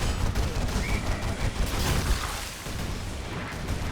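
Dense, continuous gunfire and explosions from a Warhammer 40k battle video game with Imperial Guard troops, a steady loud barrage of overlapping shots and booms without pause.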